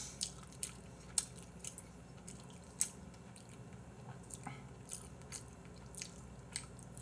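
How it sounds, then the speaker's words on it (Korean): Someone eats noisily up close, with soft wet chewing and occasional sharp bites and crunches at an irregular pace, fairly faint with no talk. "아니 얼마나 쩝쩝거린다고 그러는 거야."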